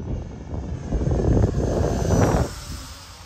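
An 80mm electric ducted-fan RC Mirage 2000 model jet makes a high-speed pass on a hot, calm day. Its rushing roar swells over a couple of seconds, then drops away sharply near the end, with no talking.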